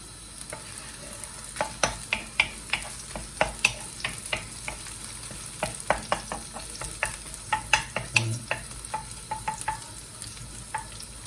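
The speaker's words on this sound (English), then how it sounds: "Right, we're going to get the garlic a little bit brown." Garlic sizzles in a pan for a cauliflower curry while it is repeatedly stirred, with sharp scraping and clinking taps over a soft, steady frying hiss, close and fairly quiet.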